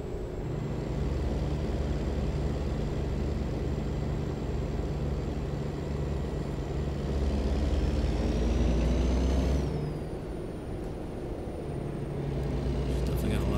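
A Kenworth truck, upgraded from 350 to 600 horsepower, rumbles steadily and loudly nearby, swelling briefly midway, with faint air hiss and a high whine on top.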